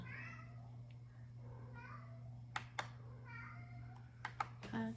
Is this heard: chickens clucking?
no